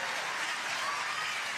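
Applause and cheering from a crowd at a singles pickleball match, a steady dense wash of clapping that stays even and moderately loud over a brief stretch.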